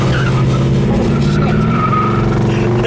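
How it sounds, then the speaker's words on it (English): A 1968 Ford Fairlane 500 with dual exhaust rumbles loudly up close, its engine note rising and falling in a continuous, throaty revving drone. "with the dual exhaust, makes this thing sound a little more powerful than it is"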